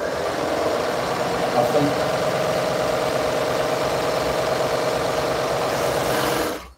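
An overlock serger runs steadily as it finishes a fabric edge while sewing a "Take A Stand" pattern, giving a continuous close motor whir that cuts off just before the end.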